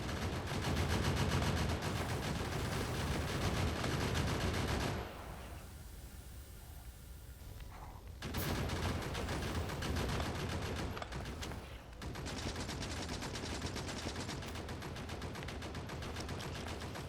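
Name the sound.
gunfire from turrets shooting a rock, Factorio video game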